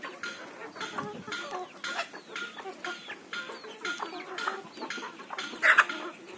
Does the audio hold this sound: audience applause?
no